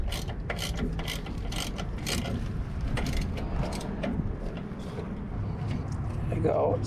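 A fastener on a bass boat trailer wheel being tightened with a ratchet during a brake and wheel bearing job, a rapid run of close, sharp clicking bursts mixed with a speaking voice.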